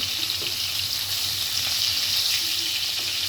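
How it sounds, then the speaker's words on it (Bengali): Fish frying in a pan, a steady bright sizzle that fills the short stretch evenly and stays close and fairly loud, with no one talking. "আমি মাছটা ভেজে নিচ্ছি"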